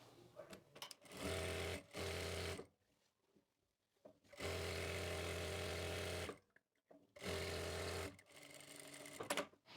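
A sewing machine stitches pieces of a Punjabi chakvi salwar in three separate bursts of steady mechanical whirring, each lasting one to two seconds, with quiet gaps between them as the fabric is guided.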